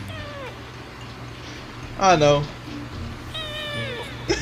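A cat meows several times in close succession, harmonic yowling cries standing out loudly near the middle and again toward the end, with a voice speaking and exclaiming around them.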